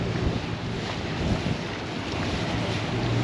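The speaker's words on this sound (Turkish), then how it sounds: "Bu tekne geldi. Çok ses yapıyor." The engine of a tour boat on the sea drones steadily and low, mixed with wind noise across the microphone and a faint wash of water.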